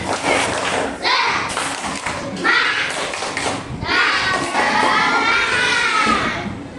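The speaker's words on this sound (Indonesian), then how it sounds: "Tepuk semangat." Schoolchildren in an Indonesian classroom perform a rhythmic spirit clap in unison, loud bursts of patterned hand claps mixed with children's shouting and voices.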